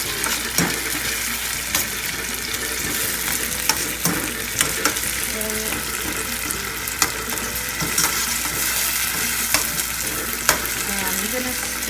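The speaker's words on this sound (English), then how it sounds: "now I'm just going to turn up the heat a little more, just so this fries quickly." Plantains fry in a pan over medium-high heat, a steady dense sizzle with scattered clicks and scrapes from stirring running through the whole stretch, close and even, with no voices.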